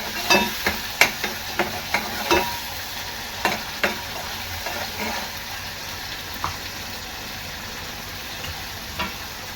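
Paneer masala gravy made with roasted garlic and sesame is stirred in a pan until the oil separates. Irregular spoon scrapes clink over a soft, steady sizzle, fairly quiet and close.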